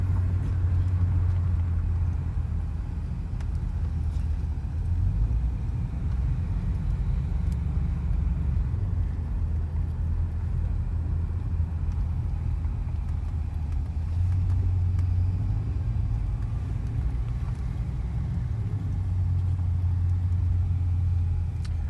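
A 1978 Mercury Cougar XR7 with a 351 Windsor V8, heard from inside while driving, giving a steady low engine rumble and road drone with gentle swells in pitch as the revs rise and fall.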